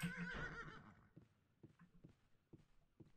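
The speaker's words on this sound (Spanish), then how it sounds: "Me están poniendo nerviosos los caballos. Eh. No se callan." Horses neigh and whinny loudly in the medieval game Life is Feudal, a long whinny up front followed by softer snorts and hoof clops, with no talking.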